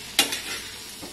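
Tomato pulp sizzling in a hot pan for goat blood fry, with a sharp stirring scrape near the start and a softer second scrape shortly after, close and alone.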